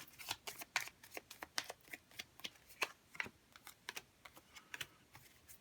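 Tarot cards shuffled by hand in a quiet room, a rapid run of crisp riffling flicks and soft taps with no voices, close and fairly faint throughout.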